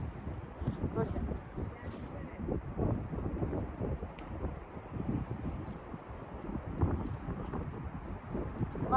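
Strong gusty wind buffets the microphone at a fishing pond, a rumbling low roar rising and falling continuously while someone talks over it.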